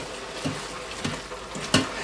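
Minced meat for a cheese sauce frying in a pan, a steady low sizzle broken by several soft scraping stirs at intervals, close and moderately loud with no talking.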